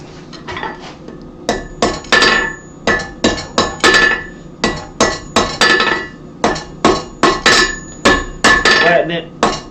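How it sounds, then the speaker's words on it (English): Hammer blows on hot steel at a blacksmith's forge, driving in the corners of a bar before tapering it for a soapstone holder: about eighteen sharp, ringing metallic strikes in quick bursts, loud and close, with no talking. "drive the corners in so that we don't get a fish mouth when we taper it down"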